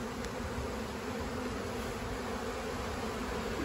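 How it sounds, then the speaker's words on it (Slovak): Honeybees from a swarm moving into a swarm box make a loud, dense, continuous buzzing hum, close by and unbroken throughout. "budeme sledovať, ako včely do tohto rojáka alebo rojnice idú"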